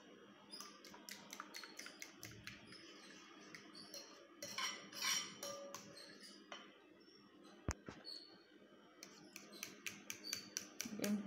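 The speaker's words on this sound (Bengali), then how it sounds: "ডিমটা দিয়ে খুব সুন্দর করে ফেটিয়ে নিতে হবে।" Eggs being beaten in a bowl for noodles, with quick clinking whisk or fork strokes against the bowl in irregular bursts, close and fairly quiet.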